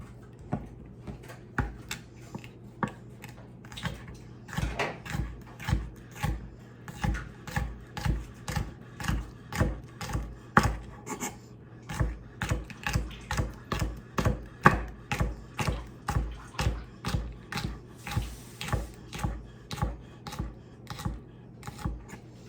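A knife chops thinly sliced potatoes in steady, rapid strokes on a cutting board, close and crisp, continuing without pause through the whole stretch with no talking.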